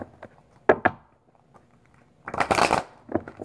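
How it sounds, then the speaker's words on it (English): Tarot cards being shuffled by hand, with soft riffles early on and a dense, louder burst of rapid card flutter near the end, close and alone without speech. "sometimes it takes me a while to shuffle, only because it doesn't feel right."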